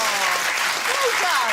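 Studio audience, mostly women, applauding on a daytime TV talk show, a dense steady clapping filling the whole short stretch with some voices mixed in.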